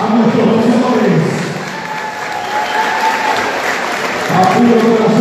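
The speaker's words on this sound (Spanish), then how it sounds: "queremos darles un fuerte aplauso a nuestros boxeadores." Crowd applause and cheering for boxers after a boxing bout, a steady loud wash of clapping that swells at the start and end while a voice talks over it.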